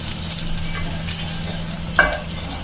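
Garlic, dried chilies and cumin fry in a pan with a low, even sizzle while being stirred, and a few soft scrapes and one sharp metallic tap come near the end.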